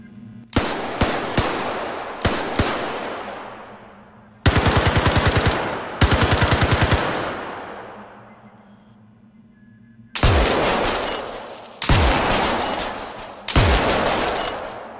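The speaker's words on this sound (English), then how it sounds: "Here's an example of a few weapons using some of these recordings." Weapon fire from the Star Citizen FPS module: short, loud bursts of rapid automatic shots, each followed by a long decaying tail, then heavier single blasts with booming low-end reverb, spaced a second or two apart with no voices.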